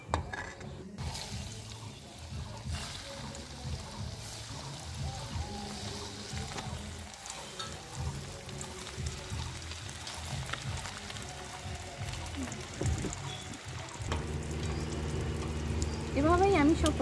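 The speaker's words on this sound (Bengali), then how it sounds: "এইভাবেই লাল লাল করে আমি সব পকোড়াগুলো ভেজে নিয়েছি" Chicken kurkure pakoras deep-fry in hot oil with a steady, bubbling sizzle. The frying runs throughout, at a fairly even level that grows a little louder toward the end.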